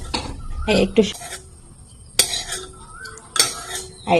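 Metal utensil scraping and clinking against a pan as fried taro stolons are lifted out, several sharp clinks and scrapes at irregular intervals against a quiet kitchen background.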